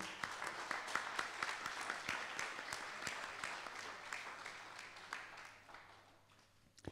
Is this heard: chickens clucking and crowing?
no